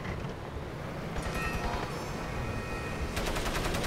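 Gunfire in the video game Crysis, rapid automatic bursts that run over steady background noise, with a dense closing volley.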